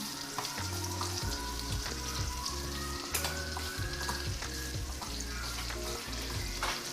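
Butter and garlic sizzle steadily in a hot pan, a constant close crackling fry with occasional stirring scrapes, no one speaking.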